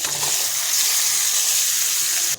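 Fish tipped all at once into hot oil, bursting into a loud, dense, hissing sizzle that fills the short moment, close up, with no voices.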